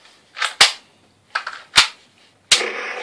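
A toy Wild West electronic repeater cap gun fires three sharp, close cracks spaced about a second apart, each preceded by a brief mechanical click or rustle, the last leaving a short fizzing tail.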